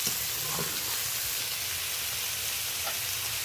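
Prawns frying in a pan make a steady, close hissing sizzle that runs evenly throughout with faint crackles and no voices.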